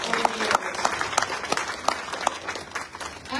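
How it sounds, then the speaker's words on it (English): A Tea Party club audience gives a brief round of applause, with a crowd clapping and distinct individual claps standing out close by. "So give them a round of applause"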